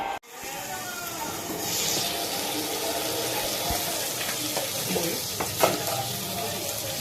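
Onions for chili prawn fry in a pan with a continuous close sizzle and a few soft stirring clicks, with no talk over it.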